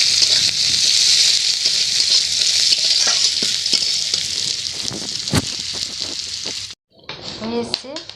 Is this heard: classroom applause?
no